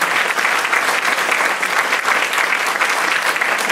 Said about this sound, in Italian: Un applauso alla mamma Maria.